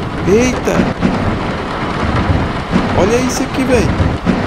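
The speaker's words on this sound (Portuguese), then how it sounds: "hoje nessa chuva aqui, mano, tá caindo muito aqui na cidade" Heavy rain in the truck driving game Grand Truck Simulator 2, a steady broadband downpour with rumbling thunder beneath it, while someone talks over it throughout.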